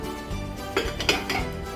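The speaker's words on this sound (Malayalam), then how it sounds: "അപ്പം അതിന് മുകളിലേക്ക് ഇത് വെച്ച് കൊടുക്കാം" A bowl set down on top of a pot of boiling water for double boiling, giving a couple of close metallic knocks and clinks against a steady background hiss.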